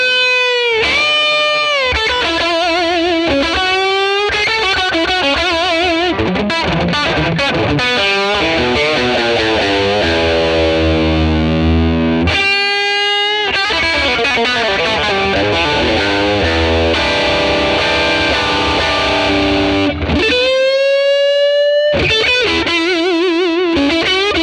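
Electric guitar through a 1957 Tweed Bassman amp model with reverb added, crunchy and sustained, mixing strummed chords and bending lead lines, loud throughout with a couple of brief pauses.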